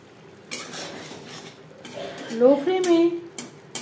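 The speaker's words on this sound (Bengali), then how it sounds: "মিডিয়াম টু লো ফ্লেমে 3-4 মিনিট মশলা কষিয়ে নেব" Spice paste for a mustard-paste parshe fish curry stir-fried in a pan over medium-low flame, heard as a spoon scraping and clinking against the pan in short bursts, with a low sizzle underneath and brief tonal voice-like sounds.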